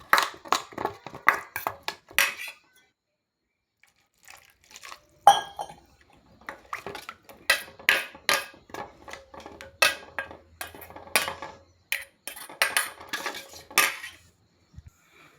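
A spoon clinks and scrapes against a metal pot while leftover masala for stuffed brinjal is stirred with a little added water, giving irregular bursts of close metallic taps with short pauses and no voices.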